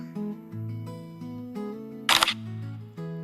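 A single quick phone camera shutter click, crisp and close, over a faint quiet background tone.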